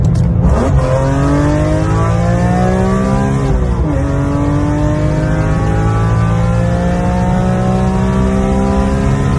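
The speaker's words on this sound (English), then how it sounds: "The engine revs right up, all the RPM, high up in the RPM" A loud 343-horsepower 3.2-litre inline-six car engine revs steadily, its pitch climbing, dipping briefly, then rising again into a sustained high-rpm roar.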